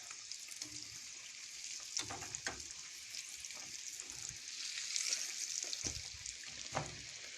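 Frozen ravioli frying in hot oil, a steady sizzle with occasional clinks and scrapes as the pieces are turned over in the pan.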